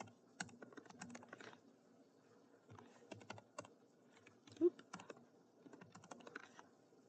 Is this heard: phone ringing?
no